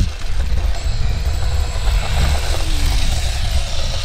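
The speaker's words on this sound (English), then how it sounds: "Oh, it's the scooter. It's the other scooter." An electric scooter rides by outdoors, a steady rolling whir and hum with wind-like rumble, fairly loud and continuous without speech.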